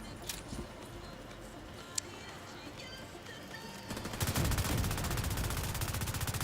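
Enemy gunfire in the shooter The Division 2, starting as scattered faint reports under a talking voice, then a loud rapid automatic burst that keeps hammering to the end.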